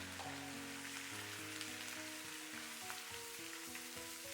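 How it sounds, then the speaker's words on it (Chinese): Romaine lettuce goes into a hot wok with ginger and garlic over high heat and sizzles as it is stir-fried, a steady, hissing fry with soft tossing movements beneath a faint background hum. "炒香以后把火调大，再把油麦菜全部下入锅中。"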